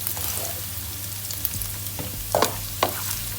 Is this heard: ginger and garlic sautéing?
yes